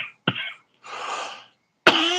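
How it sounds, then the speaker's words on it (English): Someone has a coughing fit close to the microphone, with three harsh bursts of coughing and throat clearing separated by brief silences. "Casket's having a cough attack."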